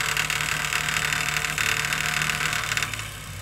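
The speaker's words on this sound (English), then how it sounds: "I'm gonna turn the switch on and see if the tone of that pump changes" The fuel pump on a 4KW Onan generator runs with a continuous mechanical buzz and hum. The sound is close and fairly loud and fades slightly near the end, with no voices.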